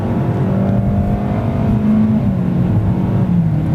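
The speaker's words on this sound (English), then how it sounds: "it definitely revs the engine a little bit more and definitely more throatier feel back there" A 2024 Kia Forte GT Line in sport mode, its engine revving steadily with a throaty rising drone heard from inside the cabin, continuous and fairly loud with no talk.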